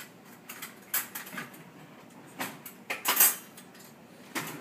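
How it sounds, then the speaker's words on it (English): A metal spoon clinks and scrapes against a small glass while fresh basil is scooped out for a pasta sauce, giving a series of light, irregular taps and scrapes up close with no talking. "we're probably going to need a spoon to get out of our little glass here"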